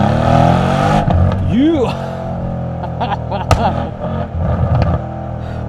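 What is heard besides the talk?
Mercedes-AMG C63 S V8 accelerating in Sport Plus mode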